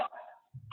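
A dog gives a short single bark, close and fairly loud, followed by a brief lower rumble.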